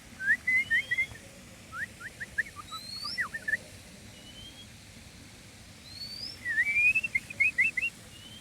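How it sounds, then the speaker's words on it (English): An unseen bird in a Kuala Lumpur botanical garden sings clear whistled chirps in quick rising phrases, two bursts separated by a quieter pause, over a soft outdoor hum. "Anyone know what that bird is making the beautiful chirping sound?"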